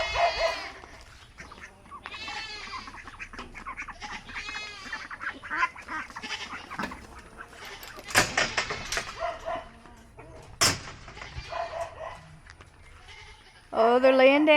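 Several goats, including newborn kids, bleat repeatedly, some nearby and loud and others fainter, mixed with a few sharp knocks and rustling, while a person talks at intervals.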